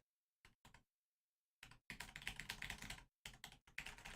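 Someone types on a computer keyboard that recently had coffee spilled into it, giving scattered clicks then dense rapid bursts of keystrokes separated by short silences, close and fairly quiet.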